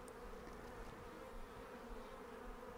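A dense swarm of honey bees hums steadily and continuously, loud and close, a thick droning buzz with no voices.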